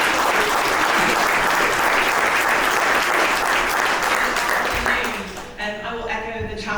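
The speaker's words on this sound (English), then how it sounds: "Give her a round of applause, everyone." Conference audience applauding a speaker at an AI and security talk, loud sustained clapping from a crowd that fades out after about five seconds as a voice begins speaking.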